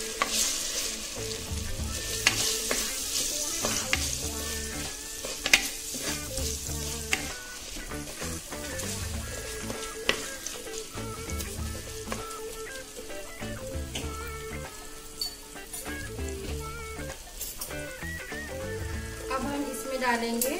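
Chopped spring onion stems frying in a pan, close and steady: a continuous crackling sizzle with frequent spoon scrapes and clicks against the pan, and some speech faintly in the background.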